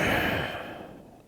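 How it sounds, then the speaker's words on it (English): A single deep, breathy exhale during a vinyasa yoga practice, starting strong and slowly fading away over about a second, close to the microphone. "Inhale, exhale."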